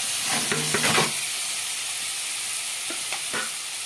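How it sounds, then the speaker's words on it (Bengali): Paneer pieces drop into hot oil for chilli paneer, giving a loud, dense, continuous sizzle close by, with a few short bursts of spattering early on. "এখন পনিরগুলোকে ঢেলে দেব"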